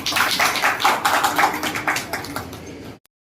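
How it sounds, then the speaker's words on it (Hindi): Audience claps loudly at a reporters' union ceremony as a memento is presented to an honoree; a close, lively burst of many hands with pulsing, uneven rhythm that cuts off abruptly into silence after about three seconds. "इसके लिए जोरदार तालियां"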